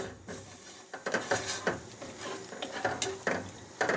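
Tomatoes frying in oil in a pan for a red lentil biryani, with a soft steady sizzle under repeated scraping and stirring clatter from a utensil, close by and with no talk.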